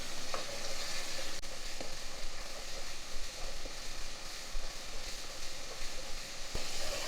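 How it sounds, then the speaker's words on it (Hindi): Steady sizzling and crackling of garlic frying in hot oil, with an occasional utensil tap, continuous and close. "दो से 3 मिनट आपने इसे अच्छे से भूनना है ताकि लहसुन की जो स्मेल है वो ख़त्म हो जाए।"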